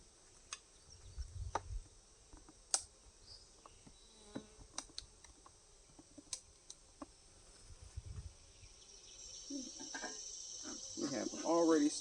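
Honey bees buzz at a hive being worked by a beekeeper: faint scattered buzzing and sharp ticks close by, swelling into a louder, denser buzz toward the end, with a voice speaking at times.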